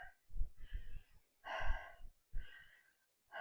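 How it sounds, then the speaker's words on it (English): Heavy, labored breathing of a person who has just walked uphill, close to the microphone, in several long gasping breaths with short pauses between them. "As you can tell, I'm breathing hard"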